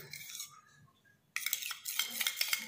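A spoon stirring and scraping mulethi powder face pack in a bowl makes close, quick clinking and scraping strokes. A brief quiet stretch comes before the stirring grows busier.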